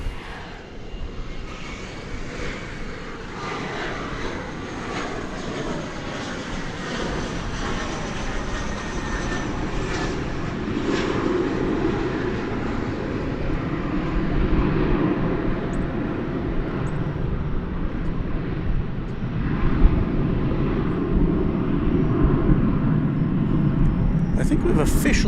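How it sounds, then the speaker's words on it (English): An American Airlines Airbus A321 jet roars at Dallas Fort Worth Airport, a broad, steady engine rumble that swells slowly as the plane passes near, while a person talks over it. "That is American Flight 1702. It's an Airbus A321."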